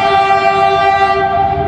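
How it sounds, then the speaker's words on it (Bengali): A train at Sairang, Mizoram, sounds a loud, sustained horn as it emerges from a tunnel, close and alone, with the tone fading slightly at the end. "কি দারুণ ব্যাপার, মিজোরামের ট্রেন এসে গেছে।"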